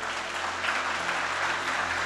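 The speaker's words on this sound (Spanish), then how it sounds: "¿Cuántos aplauden su nombre?" Steady applause fills a Spanish-language church sermon as the congregation claps together, a continuous even patter with no voices over it.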